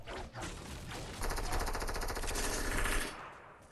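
Rapid automatic gunfire in a video game played on PS4 or PC, a dense sustained burst of shots that starts quietly and swells loud through the middle before cutting off, with no voices over it.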